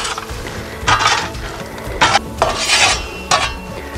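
Butter and olive oil sizzling in a hot pan on the floor of a woodfired oven, a low crackle broken by several short bursts of scraping and clinking from the pan, no talking.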